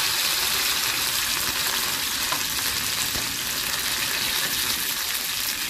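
Garlic sizzles hard in hot oil in a wok with mustard seeds and curry leaves, a steady, loud, close crackling hiss that runs unbroken with no voices.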